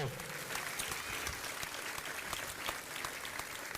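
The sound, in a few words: applause for honoured 1969 Garrymore county champions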